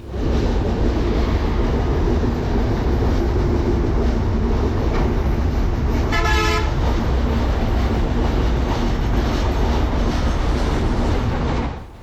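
Loud, continuous rumble and rattling of the Banalata Express crossing the Jamuna Bridge at about 20 km/h, with a brief horn-like tone midway, no voices.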